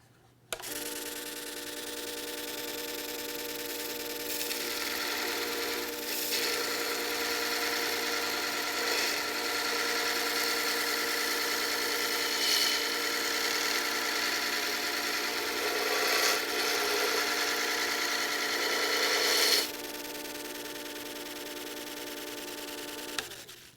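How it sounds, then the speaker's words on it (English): A Darex sharpening machine grinds a lathe chisel held at a fixed angle, giving a steady, loud mechanical whine with a constant motor hum that runs for about twenty seconds, with slight rises as the chisel is rolled through the motion. "then I'll roll it through the sharpening motion, watching that marker come off to make sure that I'm holding the exact angle"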